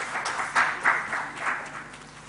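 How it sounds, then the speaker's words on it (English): Audience applause at a digital government summit, with a short burst of scattered clapping swelling and fading in a large hall, moderately loud and without voices. "Please give a big round of applause for Dr."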